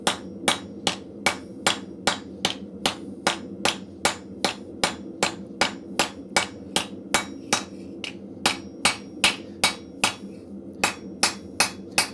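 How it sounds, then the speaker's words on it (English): Blacksmith's hammer forges steel on an anvil, striking the same spot in a steady rhythm of sharp, ringing blows, about two per second, close and loud with no talk. "I'm pretty well just hitting the exact same spot on my anvil and moving the steel as I need to keep it underneath my hammer."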